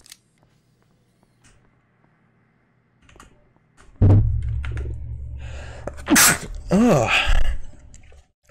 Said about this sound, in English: I'm sneezing now.